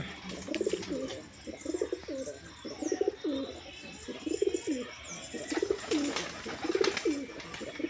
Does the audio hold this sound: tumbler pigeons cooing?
yes